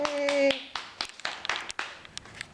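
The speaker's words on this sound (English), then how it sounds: "Applause, applause, applause." A few people clap hands in scattered, uneven bursts, close and fairly loud, with voices calling out over the opening claps before sparse clapping carries on alone.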